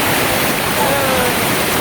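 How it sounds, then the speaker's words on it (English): A steady, loud rush of a waterfall on Siquijor Island, Philippines, fills the clip, a dense unbroken roar with no distinct pauses. "There's some other waterfalls there."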